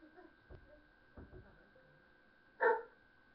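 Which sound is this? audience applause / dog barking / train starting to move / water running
dog barking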